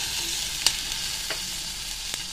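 Chopped onion sizzling in butter with mustard seeds, a steady broad frying hiss with a few sharp crackles and pops, close and alone with no talk.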